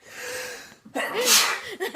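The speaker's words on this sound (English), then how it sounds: "Little eggy sneezes." A soft intake of breath followed by a sharp, close sneeze, then a quick gasp at the end.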